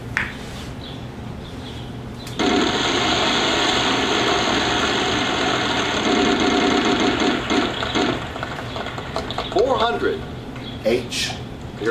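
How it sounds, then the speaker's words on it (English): A prize wheel spins with a sustained, rapid ratcheting clatter that starts abruptly and runs for several seconds before slowing, while people talk and react over it. "I'm gonna go ahead and spin the wheel"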